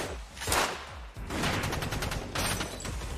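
Rapid gunfire from a shootout scene in the NCIS action TV series, bursts of loud overlapping shots and automatic fire with brief gaps, dense and close.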